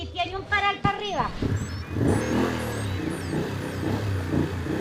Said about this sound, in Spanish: Abra la reja, porque me van a meter una moto grande y tiene un paral para arriba